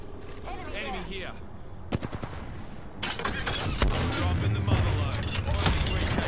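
Apex Legends battle gunfire: sharp shots crack out around the two-second mark, then dense rapid automatic fire rattles continuously through the second half, loud and close, mixed with game effects and some voices.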